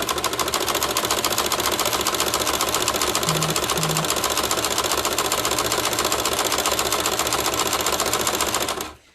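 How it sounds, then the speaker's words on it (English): A domestic sewing machine stitching fabric runs in one steady, loud, rapid whir for about nine seconds before stopping abruptly, with no talking. "I'm basically going to just sew."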